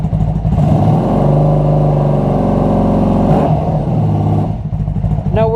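An engine revs up loudly and steadily for several seconds, then drops back toward idle near the end, with no voices, during a battery charging test.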